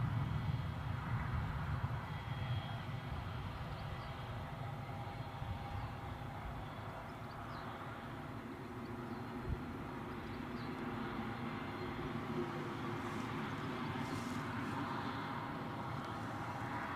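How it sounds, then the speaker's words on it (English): A British Airways airliner rolls past on the runway at Newcastle airport, a broad, steady engine roar heard from nearby for the whole stretch. "British Airways One World is now passing to my left"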